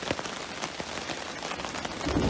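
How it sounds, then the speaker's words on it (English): Rain falling steadily on a tarp at a storm-battered kayak campsite, a dense close patter of drops with occasional louder taps over a constant hiss. "It's just raining now"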